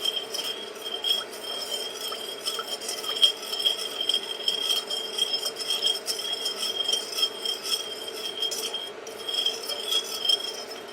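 A spoon stirs a cocoa butter mixture for a homemade scented skin moisturizer in a glass container, giving steady, continuous clinking and light scraping that keeps up its rhythm throughout.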